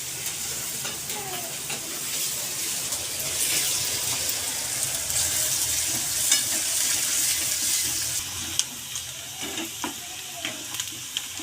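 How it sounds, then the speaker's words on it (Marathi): Onion frying in a pan for a vegetarian thali gives a steady, close sizzle, broken by scraping stirs and a few sharp spatters throughout. "कांद्याला चांगला लालसर कलर येईपर्यंत छान असा भाजून घ्यायचा आहे"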